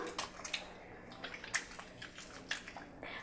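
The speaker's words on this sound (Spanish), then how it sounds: "Vamos a frotar las palmas de las manos hasta generar espuma" Soapy wet palms rub together during handwashing, giving soft, quiet squishing and slapping sounds in irregular bursts, close and faint.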